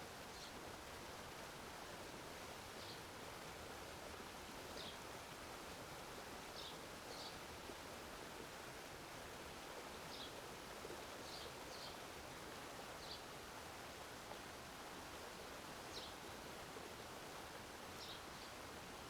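Steady broadband rush of flowing stream water outdoors along a path, continuous and even throughout with faint higher chirps scattered above, no voices.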